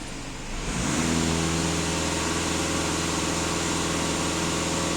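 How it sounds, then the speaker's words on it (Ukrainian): A VW Passat B8 2.0 TDI diesel engine goes from idle to full throttle, its roar jumping up after a second, then holding a loud, steady high-rev drone with strong harmonic tones. "Зараз даю газ в пол."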